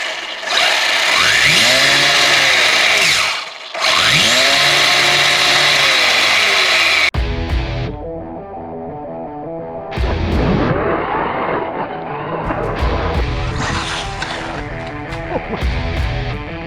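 A Rlaarlo brushless carbon fiber RC buggy running on a 3S battery, its electric motor whining loudly and sweeping up and down in pitch through repeated bursts of throttle, with brief drops between runs.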